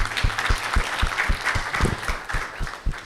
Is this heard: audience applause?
yes